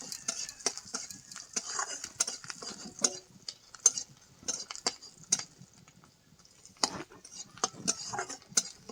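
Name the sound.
garlic frying in oil, being stirred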